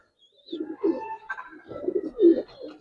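A Giribaz pigeon coos softly nearby in low, throaty murmurs, with a faint higher bird note at the start.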